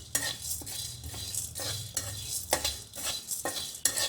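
Spices such as peppercorns and ginger dry-roasting in a pan, stirred with a steady rhythm of scraping strokes roughly twice a second, close and moderately loud, with no voices.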